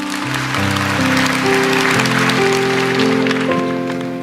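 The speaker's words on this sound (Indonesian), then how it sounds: "kasih tepuk tangan untuk Tuhan." A church congregation applauds for God during a sermon, with steady clapping running under sustained keyboard chords from the worship band.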